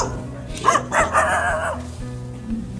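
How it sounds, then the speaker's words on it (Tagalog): At night in Bella Vista, General Trias, Cavite, a dog gives a couple of close, sharp barks, followed by a brief quieter yelp. "Sigat ang aso."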